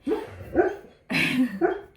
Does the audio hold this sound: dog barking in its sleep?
yes